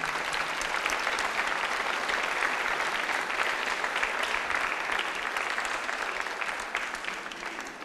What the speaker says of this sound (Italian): Un rinnovato applauso per tutte loro.